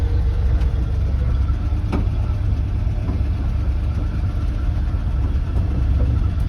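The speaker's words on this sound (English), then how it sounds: "here I am taking off down the road in an old truck" A 1968 Dodge 3/4 ton pickup truck engine drives down a road, a steady low rumble running unbroken and fairly loud throughout, with no talk over it.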